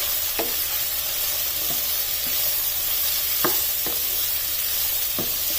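Chopped onion and green capsicum stir-frying in a pan over a high flame, a steady hiss of sizzling with occasional sharp scrapes and stirring taps, close and without talk.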